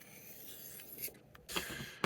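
Knife edge stroked across the diamond plate of a Work Sharp Field Sharpener, a few quiet scraping passes close to the microphone with brief gaps between strokes.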